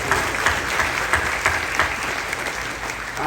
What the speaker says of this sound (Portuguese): Se você concorda, dê uma salva de palmas.